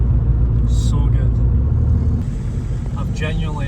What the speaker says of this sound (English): I've genuinely never heard another PD sound like this one does.